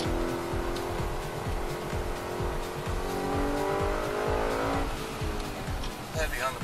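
A 2013 Audi RS5 is driven hard on a track, its engine loud and continuous as it revs up through a gear, then drops in pitch with a downshift, with tires briefly squealing near the end.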